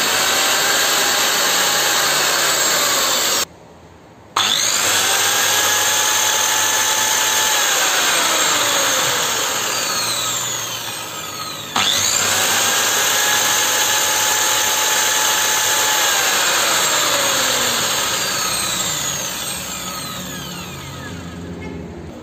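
A repaired circular saw with new carbon brushes runs with a loud, steady motor whine. It cuts out briefly, winds down and restarts, then slowly loses speed toward the end.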